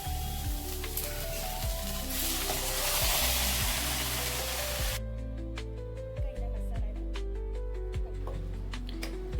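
Ground masala paste frying with onions in a pan for paneer curry, a loud steady sizzle that hisses hard at first, then settles into a softer crackle broken by repeated stirring clicks.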